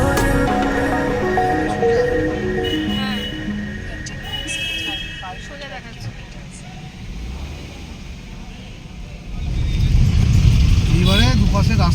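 A car driving on a road from Kolkata toward Jhargram, a low engine and road hum running steadily under music and talk, growing louder and rougher near the end.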